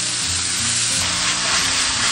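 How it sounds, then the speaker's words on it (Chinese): Scallion, ginger, garlic, chili and a spoonful of bean paste stir-fry in oil on an iron griddle, giving a steady, close, loud sizzle that holds throughout with no talking. "铁板上倒入食用油，下入葱姜蒜、小米椒，1勺豆瓣酱，炒出红油。"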